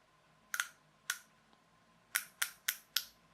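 Sharp plastic clicks from the slipping flywheel mechanism of a toy tractor, six brief ticks in irregular groups, close and fairly quiet against a faint background hum.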